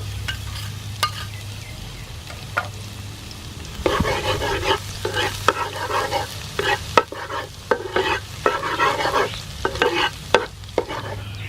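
Chopped garlic sizzling in hot soybean oil while a utensil stirs it, with a steady frying hiss and a low hum throughout; stirring scrapes and clatters grow busier and louder from about four seconds on.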